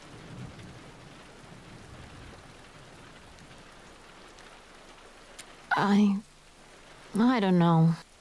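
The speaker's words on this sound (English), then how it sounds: "Let's wait out the rain in the booth." Steady rain and rumbling thunder from the video game Road 96 wash through as a continuous stormy backdrop, with voices briefly talking over it near the end.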